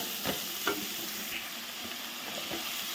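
Green chillies, ginger and onion frying in a pan, a steady close hiss of sizzling oil with a few soft scrapes of stirring.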